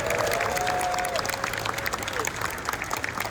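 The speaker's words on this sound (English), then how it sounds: "One more time, a round of applause for Richard Petty" A crowd at the Toyota booth at the SEMA 2024 show applauds in a dense, lively burst of clapping with some cheering, a voice briefly carrying over the noise.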